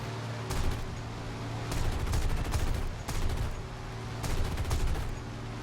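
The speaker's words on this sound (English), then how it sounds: "Oh, that was definitely a few cannon hits," Cannon and machine gun fire from a P-39Q Airacobra in War Thunder aerial combat, several sustained bursts of rapid gunfire over a steady engine drone, fairly loud and continuous.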